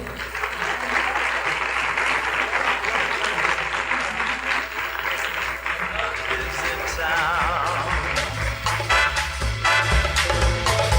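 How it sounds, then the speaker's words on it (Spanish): Applause rings out from a conference audience at a university, steady clapping that continues throughout and mixes with pop music starting toward the end. "Los despedimos con un fuerte aplauso"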